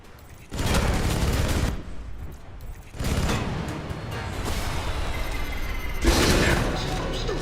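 Chain guns in the video game Alpha Protocol fire in long, loud, sustained bursts separated by short pauses, the rapid rattle close and dense.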